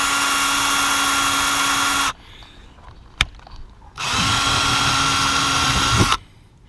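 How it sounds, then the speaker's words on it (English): A power drill drives screws into an RV furnace vent cover in two sustained bursts of high whining, separated by a quiet pause with one sharp click. "Now all I'm going to do is take my drill,"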